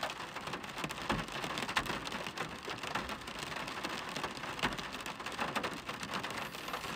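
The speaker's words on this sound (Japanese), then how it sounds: "雨が降っててね" Steady rain falls outdoors during a cherry blossom outing, a dense, continuous patter of drops on surfaces close by, with no voices.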